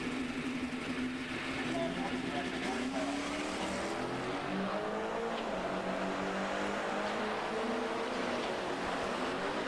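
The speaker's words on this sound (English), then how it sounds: "A pair of classic Chevys looking for 9-second passes" A classic Chevrolet Corvette and a 1969 Camaro make a factory stock drag racing pass at US 131 Motorsports Park. Their V8 engines roar and rise in pitch as they accelerate down the strip, heard from a distance.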